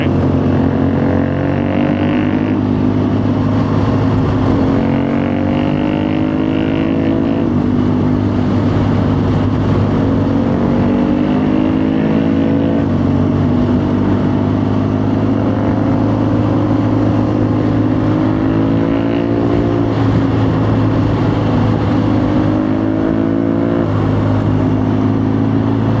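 A 2011 BMW GS1200 motorcycle rides along a street, its engine droning steadily and close with repeated rising and falling revs as it accelerates and shifts through gears.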